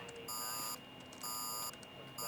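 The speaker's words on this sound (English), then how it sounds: "Larry, we have an alarm in Sector 3." A control-room alarm in a film scene sounds repeated pulsed electronic tones, steady bursts of about half a second with short gaps, held over a constant hum and a faint background voice.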